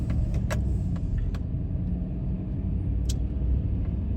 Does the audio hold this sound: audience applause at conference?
no